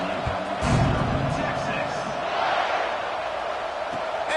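A college football stadium crowd roars steadily before a kickoff, a dense wash of cheering and shouting with a few louder swells, heard from within the stands.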